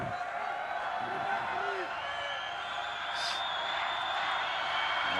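Home crowd cheering at a school rugby match between Monument and Waterkloof, a steady broad roar of many distant voices sustained throughout, with commentary voices heard over it.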